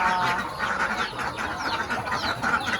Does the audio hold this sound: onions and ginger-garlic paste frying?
no